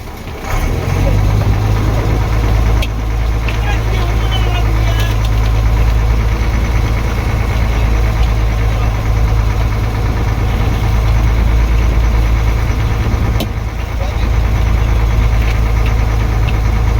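A small fishing boat's engine runs slowly, a loud, steady, low throbbing drone close by with faint rhythmic knocking throughout.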